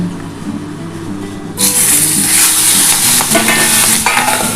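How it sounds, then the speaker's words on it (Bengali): Fish fat goes into hot oil in a pan that is then covered, setting off a sudden loud, spitting sizzle that continues close and intense with crackling bursts. "আমার তেলটা গরম হয়ে গেছে আমি মাছের তেলটা কিন্তু আমি দিয়ে দিচ্ছি"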